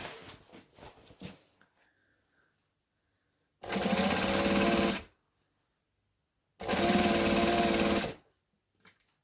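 A domestic sewing machine stitching fabric for a reversible ironing board cover, running in two steady mechanical bursts of about one and a half seconds each, separated by quiet pauses, after some brief handling noise.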